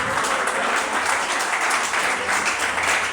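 A church congregation applauding steadily, a dense wash of many hands clapping at even loudness throughout, with no clear voices.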